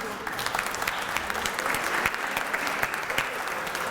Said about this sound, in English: Give her a big round of applause, too